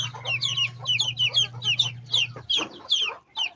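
Chickens clucking and squawking close by at feeding time on a farm that keeps ducks and hens, a busy overlapping chorus of short calls over a low steady hum that drops out partway.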